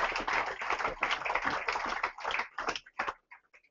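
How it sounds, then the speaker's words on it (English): Applause from the audience at a football club's squad number announcement, heard as a quiet burst of hand claps that thins out and stops within a few seconds. "Give him a nice big round of applause."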